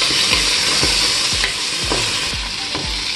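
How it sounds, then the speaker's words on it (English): Shrimp sautéing in a pan, a loud steady sizzle with rhythmic stirring scrapes repeating about every half second, close up and with no talk. "It's just normal sauteed shrimp."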